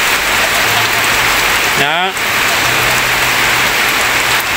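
Heavy rain pours down steadily outdoors, a dense, constant hiss with no letup; a short spoken word and a brief rising whistle-like sound cut in about midway through.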